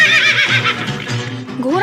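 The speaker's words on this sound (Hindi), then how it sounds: "घोड़ा जैसे आनंद के आदेश के लिए रुका था, जैसे ही आदेश मिला उसने अपना काम शुरू कर दिया।" A horse in an animated Hindi fairy tale gives a loud, close whinny that wavers and then rises into a second shrill neigh, with faint hoof clip-clop underneath.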